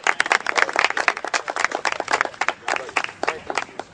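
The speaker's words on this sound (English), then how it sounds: "everybody give Bobby Flay a big round of applause" Dense, steady audience applause for celebrity chef Bobby Flay at an outdoor grilling event, many hands clapping close and loud for the full stretch with a few scattered voices mixed in.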